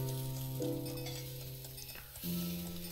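Food sizzles and fries as it cooks in the video game Phoenotopia: Awakening, a steady quiet crackle under soft tonal game music, with no voices.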